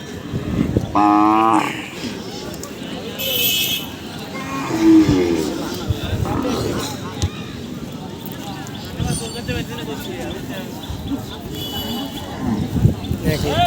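Cattle moo several times amid a busy outdoor crowd at a livestock market before Qurbani, with people talking throughout and other animal and market noises around.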